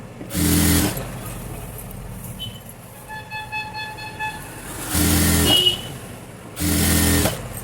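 A sewing machine stitches a folded seam on a frock in three short, loud, close bursts of rapid whirring, separated by quieter pauses with faint background sounds.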